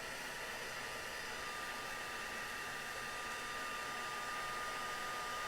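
A steady, loud blowing whir of a heat tool melting embossing powder runs continuously and unchanging throughout, close to the listener, with no talking.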